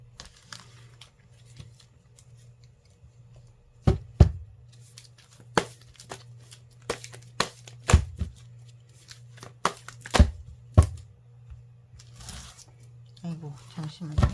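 Film-covered fortune-telling cards being shuffled by hand, with sharp slapping and riffling bursts at irregular intervals over a steady low hum, growing busier toward the end.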